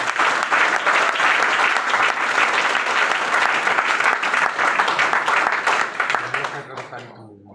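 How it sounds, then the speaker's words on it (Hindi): A seated crowd at a motivational business meeting gives loud, sustained applause, a thick, steady roar of clapping that holds for several seconds before tapering off quickly at the end. "उनके लिए जोरदार तालियां होनी चाहिए"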